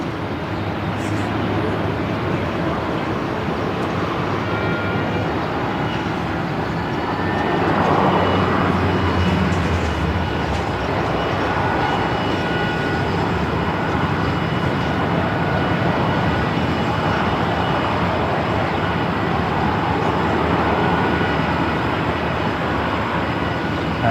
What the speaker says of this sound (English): Rex Saab just about to touch down there